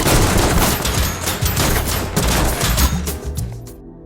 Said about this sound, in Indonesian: mereka semua tidak mendengar dan malah memerondong bunker baja Hammer dengan tembakan